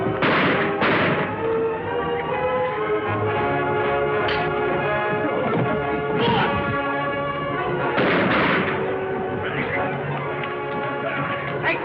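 Gunfire rings out in a TV western shootout, with several sharp shots at irregular intervals over a dense, continuous bed of action noise and commotion.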